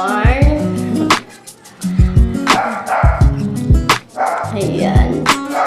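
Bowie the dog barks angrily and repeatedly during a bath, loud close bursts of yips and growly barks in uneven clusters with short pauses between them, with a person talking in between.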